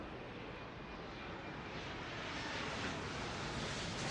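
Jet airliner engine in an airport management video game, a steady, loud broadband roar holding evenly throughout with no talk.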